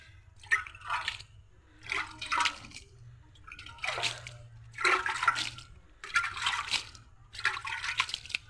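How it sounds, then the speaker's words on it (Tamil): Water is sprinkled lightly onto freshly sown seeds in six short bursts at a steady rhythm, each a soft hissing patter close by. "இப்போது தண்ணி தெளித்து விடணும் லைட்டாக."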